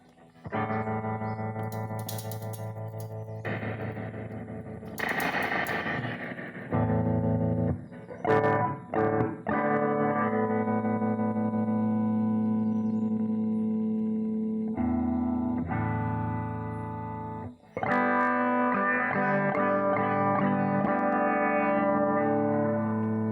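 Fender Deluxe Custom Reverb reissue tube amp with a burned screen resistor and its reverb engaged: strummed guitar chords ring out loud and close with a washy tail, broken by a few short gaps, no voices.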